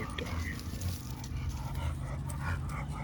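A dog whimpers and pants in brief, soft bursts close by, mixed with light movement, while a person talks over it almost throughout.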